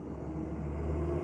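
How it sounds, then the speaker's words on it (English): Trucks passing outside make a low continuous rumble, steady and moderately loud throughout the short clip with no voices over it. "Oh, sorry about the noise. Trucks."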